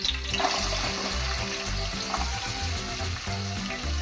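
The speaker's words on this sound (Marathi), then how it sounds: "आता हांव तेल घालता. थंय 2 पियाव घेयले ते फोंडां घालता." Onions fry in hot oil for a coastal-style crab curry, giving a dense, continuous, close sizzle and crackle with a low rumble running underneath.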